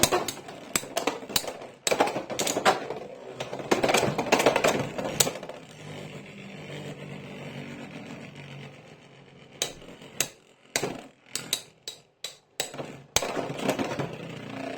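Scorpio Spear Beyblade spinning tops launched and clashing, a dense burst of sharp rapid clicks and rattles, then a quieter whirring stretch, then a final run of loud separate impacts, with no talking.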